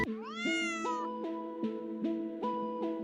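A kitten meows close and clear. It gives one long, drawn-out rising call, then a string of shorter steady cries at an even pace, with no voices.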